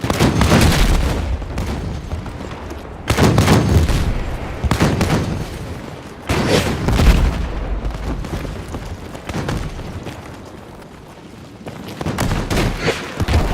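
Heavy-calibre gunfire and explosions in the video game Battlefield 6 come in loud bursts of rapid shots and booms, separated by short quieter gaps.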